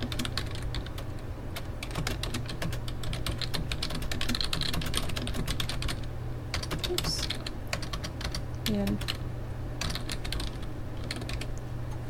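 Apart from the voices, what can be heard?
typing on computer keyboard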